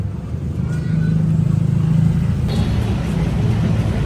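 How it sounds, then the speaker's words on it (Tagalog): Street traffic outside a market in the Philippines, with cars, motorcycles and tricycles rumbling steadily nearby in a continuous low engine drone, loud and close. "Ito traffic talaga"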